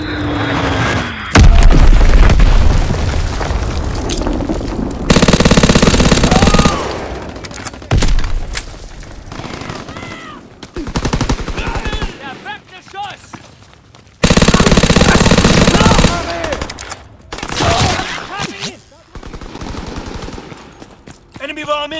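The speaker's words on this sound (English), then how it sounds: "Enemy bomb incoming! Get to cover!" In a Call of Duty WWII multiplayer match on the Aachen map, bursts of machine-gun fire and loud bomb explosions come and go. Booming blasts alternate with quieter stretches, and voices shout over the battle.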